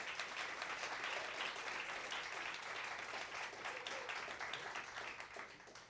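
An evening benefit audience applauds the premier sponsors, with dense, fairly close clapping and a few cheers that hold steady, then begin to taper off near the end.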